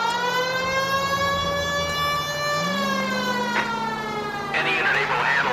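A police car siren in the video game L.A. Noire, a loud sustained wail holding steady then shifting pitch, with radio chatter and voices briefly over it.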